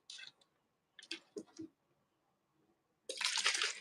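A hand spray bottle mists water onto a twist-out of curly hair: faint trigger clicks and brief hissing puffs, then a longer, fuller spray burst at close range in an otherwise quiet room.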